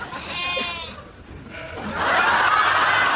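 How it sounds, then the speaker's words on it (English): Sheep bleating in a TV comedy scene, a wavering bleat followed by a louder, longer one close by. "Sheep? We didn't order sheep."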